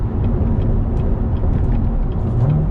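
A 2019 Corvette C7 Z06 engine, heard from inside the car on a side street, with active rev match. The note is a loud, continuous low rumble with no talking.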